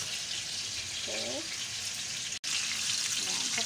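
Food fries in a pan with a steady, close broadband sizzle that continues throughout, with a brief cutout near the middle and faint voice-like tones beneath.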